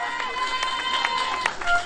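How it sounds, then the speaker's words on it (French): Crowd at a Paris-area protest rally against Zemmour and CNews applauding and cheering, a continuous dense wash of clapping and voices with a few sharper shouts. "Un tonnerre d'applaudissements pour lui."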